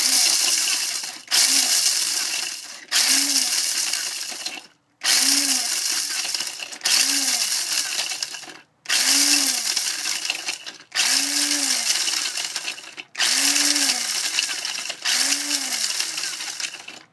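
An electric grinder pulses herbs for loose incense in about eight short whirring bursts, each a loud rising-then-falling motor whine with grinding rattle, separated by brief stops, close up with no talk.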